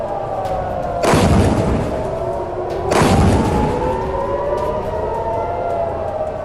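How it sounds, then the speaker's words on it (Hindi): A civil defense siren in Jerusalem during Iranian missile attacks wails steadily in the distance, its pitch slowly rising and falling, with two loud booming rumbles breaking in partway through. "यरूशलेम में लगातार खतरे का सायरन बज रहा है"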